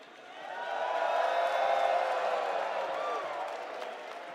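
Crowd cheering and applauding at the EVO 2025 grand finals for Fatal Fury: City of the Wolves, a broad sustained roar of many voices that swells and then eases slightly, with an announcer's voice faintly over it.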